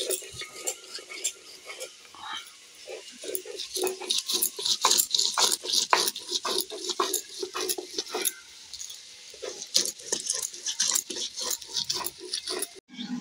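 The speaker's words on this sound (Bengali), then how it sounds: "এবার আদাটা আমি বেটে নেব।" Ginger is ground on a stone grinding slab in a Bengali kitchen while chicken kosha is being cooked, giving repeated scraping and knocking strokes in an uneven rhythm, close and moderately loud, with faint background clatter.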